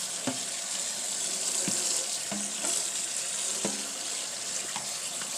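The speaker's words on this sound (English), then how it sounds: "We're going to give these yet another rinsing." Berries getting another rinse under running tap water in a sink, a steady broadband rush of flowing water with a few soft knocks and clatters as the fruit is handled, close and continuous.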